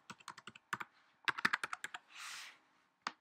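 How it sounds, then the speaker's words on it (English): A password is typed on a Mac computer keyboard as a quick run of light, close keystrokes, then a short pause, a second flurry, a soft longer rustle and one final key tap, all quiet. "and type in your password."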